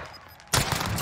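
Gunfire in Call of Duty Warzone, a sudden loud burst of shots starting midway after a quieter stretch, sustained and dense to the end.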